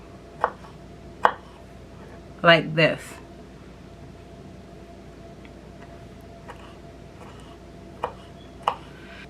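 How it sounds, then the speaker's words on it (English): A few sharp knife chops through tomatoes on a cutting board, spaced irregularly, with a quick cluster of cuts in the middle and a quiet voice briefly speaking. "So I'm going to finish chopping up these tomatoes"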